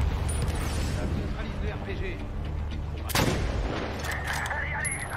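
Gunfire in the Medal of Honor Warfighter video game: a sharp loud shot stands out against a dense, constant battle ambience, with a voice talking over the action.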